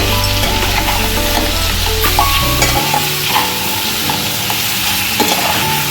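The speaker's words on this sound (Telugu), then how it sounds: "అల్లం వెల్లుల్లి పేస్ట్ బాగా పచ్చివాసన పోయేంత వరకు బాగా ఫ్రై చేయాలండి." Ginger garlic paste fries with chicken in a pan for a home-style red chicken fry, giving a loud, steady sizzle with stirring scrapes throughout and no talking.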